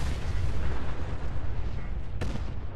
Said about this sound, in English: Blowing up cars.